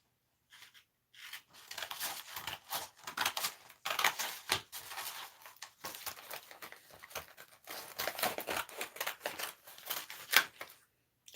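Scissors cutting through a paper transfer motif for vintage home decor, a steady run of small crisp snips and paper crinkles, close and quiet, with short pauses between bursts and no talking.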